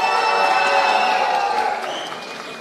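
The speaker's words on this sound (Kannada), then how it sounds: "ಫಸ್ಟ್ ನನ್ನ ಕಡೆಯಿಂದ ಕಾಂತಾರಗಂದು ಚಪ್ಪಾಳೆ" Theatre audience applauding and cheering for the film Kantara, a dense, steady roar of clapping with whistle-like tones running through it that gradually fades over a few seconds.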